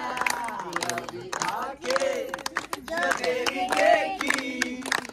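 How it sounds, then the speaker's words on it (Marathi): Lively room noise at a wedding celebration, with several people talking and calling out over scattered hand claps, steady and fairly close throughout. "अरे टाळ्या चालू ठेवा हळू."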